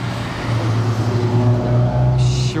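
A Bugatti Chiron Pur Sport driving in Monaco gives a deep, steady engine rumble that swells slightly as it moves past, fairly close, with a brief hiss near the end.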